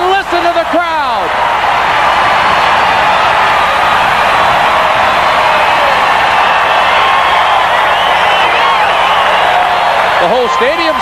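A packed USFL stadium crowd roaring after a Denver Gold touchdown, 1984, a loud continuous wall of cheering and whooping that holds for several seconds with brief whistles at the start and end.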